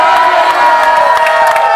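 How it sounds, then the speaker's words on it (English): A wrestling crowd in Cork roars and cheers behind a wrestler, loud continuous shouting and whooping that fills the space from start to finish. "Crowd behind CBL."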